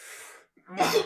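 A single person sneezes once, close and loud, with a short breathy intake before the burst.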